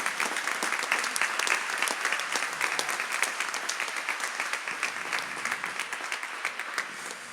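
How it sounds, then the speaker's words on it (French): A room of people applauds a radio station's technical manager, with a steady wash of crisp clapping that holds for several seconds and eases slightly toward the end. "que nous pouvons applaudir aussi"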